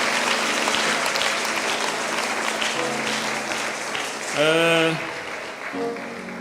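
Congregational applause fills a church during a worship service, a sustained dense clapping from a large gathering with musical tones and a rising sung or keyboard phrase near the end.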